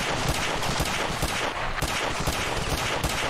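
Dense, continuous gunfire from the video game Ravenfield during a siege on an Air Force One plane, loud overlapping shots and explosions blending into a constant roar with no speech.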